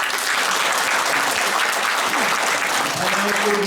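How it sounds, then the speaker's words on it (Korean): Sustained applause from a crowd at a Democratic Party New Year gathering, honoring a former mayor; dense, steady clapping fills the room throughout, with faint voices underneath. "우리 이상천 전 시장에도 한번 격려의 박수 한번 보내주시기 바랍니다"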